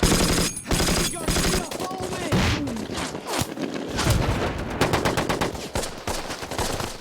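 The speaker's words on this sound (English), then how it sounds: "Suppressing fire! Suppressing fire!" Machine-gun suppressing fire erupts in a war-film battle scene, with loud rapid bursts and scattered heavy booms and thuds, broken by brief gaps and shouting voices.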